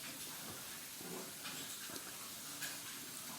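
Diced onions sautéing in a little oil, a soft steady hiss with gentle sizzling swells, quiet and without talk.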